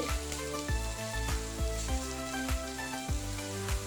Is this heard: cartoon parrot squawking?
no